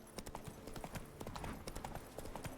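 Horse hooves gallop in a video game with fast, continuous clip-clop beats at a moderate distance under a light game background, with no speech over them.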